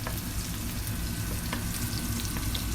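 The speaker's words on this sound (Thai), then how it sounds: "เราต้องผัดพริกแกงให้หอมก่อน" Red curry paste stir-fried in a pan for a salmon fish-head dish, a steady close sizzle with a few faint scraping stirs and no talk.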